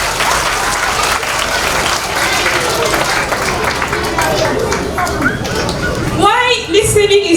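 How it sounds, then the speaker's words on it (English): A group claps enthusiastically for a child who just told a story about listening, steady close applause for about six seconds, followed by a voice speaking over the last few claps. "Can you clap for him?"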